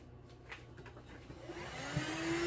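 A vacuum cleaner sucks up loose material while a hat is being shaped, giving a steady, close whooshing drone that grows gradually louder through the clip.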